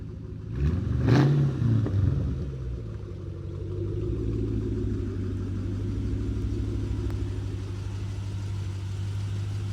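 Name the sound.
Ford vehicle driving on a test drive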